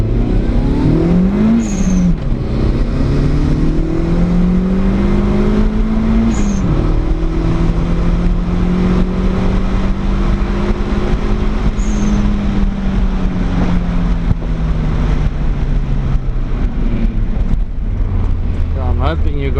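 A Honda CRX engine revs steadily upward under acceleration, its pitch rising and falling with gear changes as road and wind noise hold loud and constant throughout.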